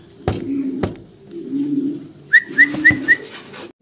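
Mundian pigeons, a nesting pair sitting on eggs, coo in a short series of four soft rising calls near the end, after a few dull knocks and low rustling.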